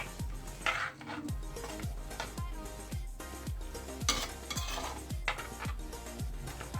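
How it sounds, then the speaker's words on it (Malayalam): A spoon repeatedly stirs dried mackerel curry with added water in a pan, giving steady rhythmic scraping and clinking strokes at close range, with no talk. "ഇനി നമുക്കിതൊന്ന് ഇളക്കി കൊടുക്കാം."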